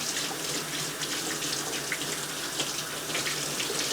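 Hands being washed under a running kitchen tap, a steady close hiss of water splashing into the sink throughout, with no voices.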